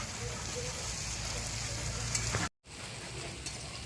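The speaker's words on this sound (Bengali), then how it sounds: "এবার আস্তে আস্তে বেশ কিছু সময় এটা ঝরঝরা করে ভাজা হবে" Taro stolons fry in mustard oil with a steady, dense sizzle and crackle close up. A few faint stirring scrapes come through, and the sound drops out for an instant before resuming.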